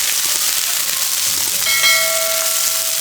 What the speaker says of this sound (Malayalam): ഇതിലേക്ക് ഒരു സവാള, പച്ചമുളക്, കറിവേപ്പില ഇതൊന്ന് നല്ലവണ്ണം വഴറ്റിയെടുക്കാം.